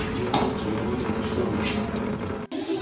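Radiator fluid draining out of a Humvee HMMWV through a small hole, a steady close trickle and splash of liquid that runs continuously, then cuts off briefly near the end.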